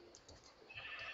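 Sheep bleating in a survival video game, a short faint bleat near the end over a low, quiet game ambience.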